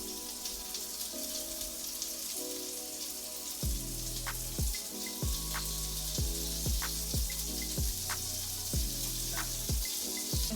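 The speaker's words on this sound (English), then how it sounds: "You hear that sizzling? That's a good temperature." A steady crackling sizzle of vegan patties frying in a hot pan, continuous and close, with soft tonal sounds in the background.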